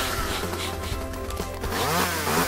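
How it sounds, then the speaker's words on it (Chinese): A chainsaw wielded by a beaver in Minecraft, a steady, loud buzzing engine whine that holds throughout and swells toward the end. "你有看到海狸拿电锯吗？"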